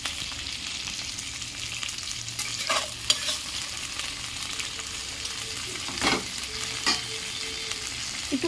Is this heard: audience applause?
no